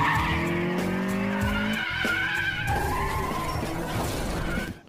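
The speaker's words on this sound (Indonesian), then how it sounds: "Takumi berhasil menyalip mobil Evo 4 Seiji hingga dirinya terkaget dan lepas kontrol hingga memutar menabrak pembatas jalan" A Mitsubishi Evo 4 in a mountain street race from the 2005 Initial D film skids and spins out, tyres squealing loudly over engine roar for several seconds before it strikes a roadside barrier.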